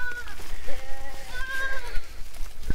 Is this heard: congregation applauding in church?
no